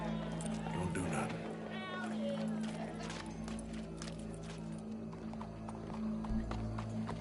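Horse hooves in the Western video game Red Dead Redemption, a rhythmic clip-clop of a galloping horse under game music and voices talking, fairly soft within the mix.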